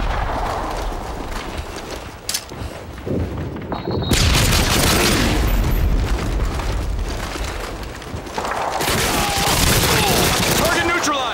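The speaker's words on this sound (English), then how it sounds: "Predator missile incoming." Predator missile strikes in Call of Duty: Modern Warfare 2 on Xbox 360 set off heavy, roaring explosions. Loud booming blasts and sustained rumbling debris fill the scene, with gunfire crackling around them and game voices calling out.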